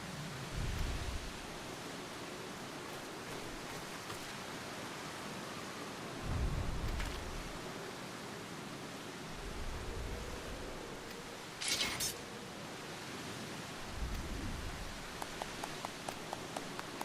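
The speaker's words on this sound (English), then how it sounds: "for this being a desert, it sure rains a lot" Rain falling in a desert area in the Final Fantasy XIV video game, a steady, hissing downpour throughout, with occasional low rumbles swelling underneath and a brief sharp burst near the end, without talk.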